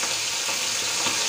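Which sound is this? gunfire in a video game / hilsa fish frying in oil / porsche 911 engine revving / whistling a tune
hilsa fish frying in oil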